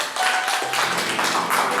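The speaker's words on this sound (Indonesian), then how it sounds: "kasih tepuk tangan dulu buat Tuhan kita" A church congregation claps together at a worship service in Prabumulih, a dense, even burst of many hands that keeps going for about two seconds, close and fairly loud.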